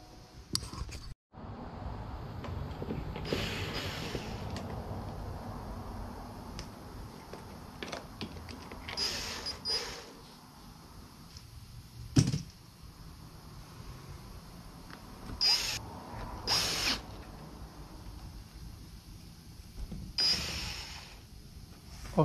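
A screwdriver drives Phillips screws into the trim molding of a Porsche convertible during a plastic rear window replacement, giving intermittent ratcheting clicks and sharp ticks over a steady low hum, with one louder knock near the middle.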